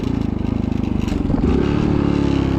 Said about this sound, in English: it's freaking loud. And it has a really loud exhaust.